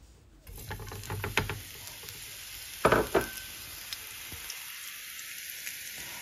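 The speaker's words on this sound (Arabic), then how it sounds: "زيت الزيتون خاص بالقلي وأضيف إليه يعني بعض من البصل المفروم" Chopped onion hits hot olive oil in a pan, starting a soft steady sizzle with a few brief stirring scrapes and a louder crackle burst midway, fairly close and with no talking.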